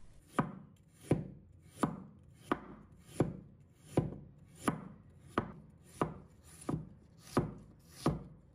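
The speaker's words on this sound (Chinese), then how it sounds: "接下来再准备1块生姜，把它切成片" A knife slices a piece of fresh ginger on a cutting board, about a dozen evenly spaced, crisp chops falling in a steady rhythm, close and clear with no talking.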